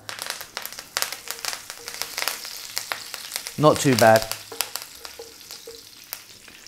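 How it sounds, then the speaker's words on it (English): Curry leaves hit hot oil with a sudden loud crackling sizzle while making chana dal; it flares for a moment and then settles back into a steady light fizz, with a brief spoken remark. "we're now going to drop in our curry leaves, which sometimes can be very loud"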